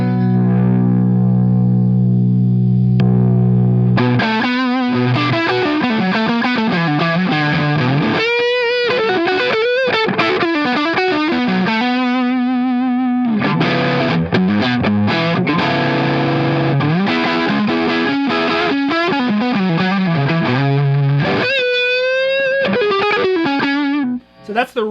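Electric guitar played through a pre-1969 Fuzz Face fuzz pedal, set up to emulate a Marshall amp, heard as a loud, distorted, sustained riff with bending notes and chords after a brief quiet opening, no talking.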